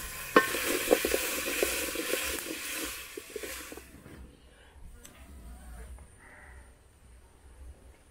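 Fish curry with tomatoes being stirred in a pan during village cooking in Africa, with scraping and sizzling strokes that are busy at first and then thin out to quieter, sparse stirring.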